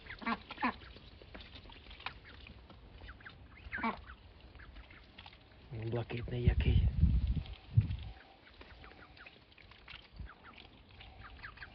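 Ducks on a small homestead farm, including what may be a drake, give scattered quacks with a louder burst in the middle, close by, while a person talks over them.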